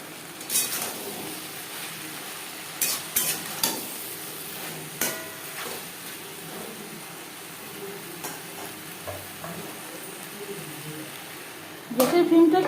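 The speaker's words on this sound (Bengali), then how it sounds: "লবণ হলুদ দিয়ে পেঁয়াজের সাথে ধুনুন 4-5 মিনিট" Onions frying with salt and turmeric in a pan for a pabda fish and sponge gourd curry. A faint sizzle runs underneath while a spoon scrapes and knocks about a dozen times at uneven intervals, ending in a louder clatter.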